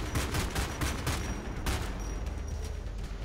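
A tank firing on players in the video game Homefront: The Revolution, a continuous dense barrage of rapid gunfire bursts that stays loud and unbroken throughout.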